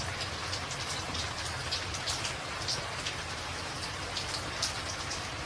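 Heavy, continuous rain pours down in a dense, steady hiss with scattered nearby drop impacts, loud and unbroken throughout.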